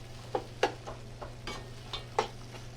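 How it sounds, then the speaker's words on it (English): Tomato paste stirred in a pot with a spoon, a few soft irregular scrapes and taps over a faint steady hum in a kitchen making Shrimp Creole, quiet and close with no talking. "we're going to stir our tomato paste around here for just a couple of minutes"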